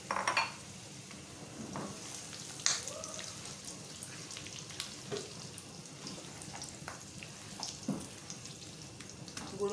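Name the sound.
jaggery cooking and sizzling in a pan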